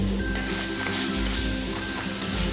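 Onion paste for Kolhapuri misal fries in oil in a pan, a steady close sizzle with a faint clink of the utensil, and no talking.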